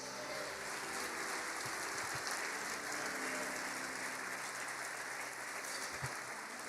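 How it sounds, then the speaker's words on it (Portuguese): A church congregation applauds, giving a faint, even, far-off wash of many hands clapping that sounds almost like steady rain and holds at a constant level throughout. "Você pode aplaudir Jesus por isso?"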